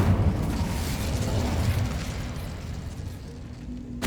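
Incendio fire spell cast in the Hogwarts Legacy video game, a dense rumbling whoosh of flame that holds steady and loud for several seconds before easing off, with no voices.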